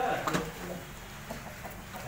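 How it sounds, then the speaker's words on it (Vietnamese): Chickens cluck faintly on a small farm where muscovy ducks are also raised, with soft scattered clucks over steady background noise and a brief human sound near the start. "Mọi người thấy nhà anh nuôi nhiều gà nhiều ngan chưa?"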